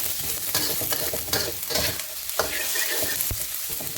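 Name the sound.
frying in a pan over medium heat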